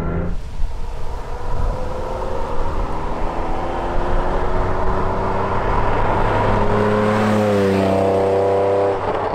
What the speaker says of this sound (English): Everything is roaring and fizzing and popping. It's just such an organic sounding engine.